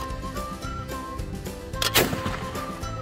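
A Yildiz .410 single-shot shotgun fires once at a trap shoot outdoors, a single sharp report midway through, heard over a constant background hum and a faint tonal whistle.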